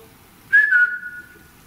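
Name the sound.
whistling sound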